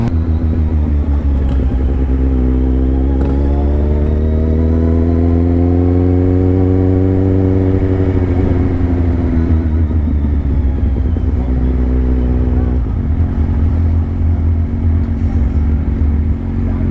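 Loud engines of motorcycles at a bike night rumble close by, a deep steady drone whose pitch rises and falls as bikes rev and roll past, with no talk.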